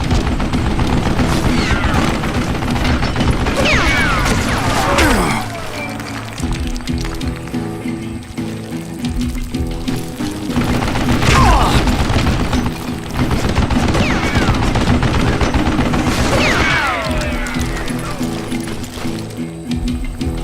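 Rapid gunfire bursts from an old man's mounted gun in Call of Juarez Gunslinger, loud and sustained in long volleys with brief gaps, mixed with game effects and music.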